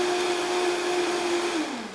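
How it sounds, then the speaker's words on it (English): A blender whirs steadily as it purées coconut smoothie ingredients, a loud close motor drone that holds level, then slows and drops in pitch as it winds down near the end. "And then I just blend it all up."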